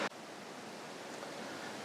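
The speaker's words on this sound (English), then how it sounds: "we're coming up to the first of the quite serious larger waterfalls" One of the larger waterfalls at the Birks of Aberfeldy in Scotland in autumn, a steady, fairly soft rushing roar after a brief click at the start, with no talking.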